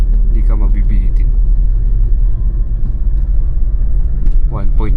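A manual Montero Sport climbs a steep hill road in Baguio City, its engine giving a steady low rumble from inside the cabin while people talk over it.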